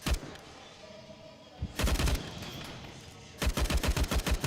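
Glock pistol gunfire during a professional Counter-Strike grand final match, two loud bursts of rapid close shots separated by a short lull, heard without talking.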